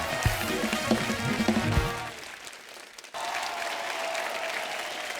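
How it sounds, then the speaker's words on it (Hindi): Studio audience applause at a Kapil Sharma comedy show, a loud burst of clapping that fades into a quieter, steadier patter after a brief dip, with music underneath at the start. "इनके लिए जोरदार ताली हो जाए"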